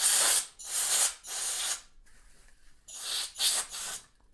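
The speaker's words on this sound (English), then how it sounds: "blow a bunch of air into the bolt face to kind of get a bunch of that grime" Canned air sprays in repeated hissing bursts into the bolt face of a Rossi Rio Bravo rifle during cleaning; five loud, broadband blasts, with a quieter pause midway, close and without talk.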